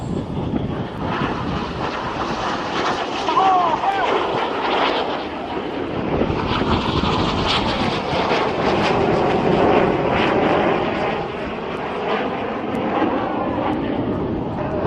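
Red Arrows jets roaring past at full power during an air festival display, a continuous loud, rumbling jet roar that swells and fades slightly over the pass, with faint crowd noise.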